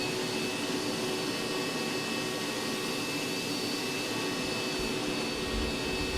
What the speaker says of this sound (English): Got our vacuum. Let's see how this thing sucks.